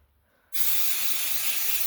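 Brake cleaner spray on bicycle gears starts suddenly after a moment of quiet, then hisses loud and steady without a break, with no voices.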